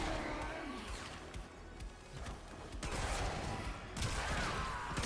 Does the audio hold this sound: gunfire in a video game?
yes